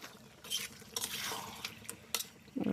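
Duck meat curry stirred in a pot with spices, giving soft wet scraping and squelching strokes at an irregular pace, close and fairly quiet, with no one talking.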